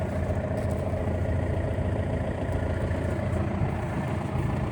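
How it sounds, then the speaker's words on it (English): A Normand Econor E100-310 snowblower engine idling outdoors on a snowy winter day, a steady low rumbling drone that stays even throughout. "Long overdue for an update on my snowblower. It's a Normand Econor."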